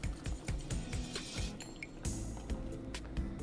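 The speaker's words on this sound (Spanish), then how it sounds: "Y vamos a ir agregando esta agüita." Warm water is added into arepa dough of harina PAN with cheese, heard as close, soft wet dripping and squishing with small splashes over a few seconds, without talk.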